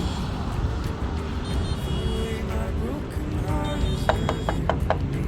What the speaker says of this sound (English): the beeping noise comes from this lock on the back of the bike